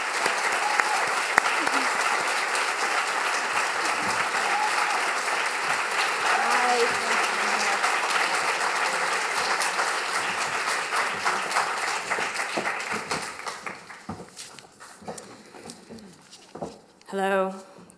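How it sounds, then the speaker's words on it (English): Audience at the #AfterMeToo symposium applauding the organizing committee: sustained clapping from a large crowd for roughly thirteen seconds, then tapering off as a voice begins speaking. "So give them a round of applause."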